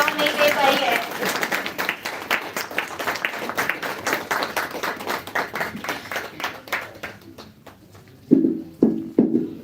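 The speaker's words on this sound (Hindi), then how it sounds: "आपकी तालियों की जो ठंडक है वो उसको इतना उत्साह नहीं दे पाई है।" Applause from an audience at a school annual day celebration, clapping steadily at moderate volume, thinning toward the end with a couple of louder bursts, and people talking in the background.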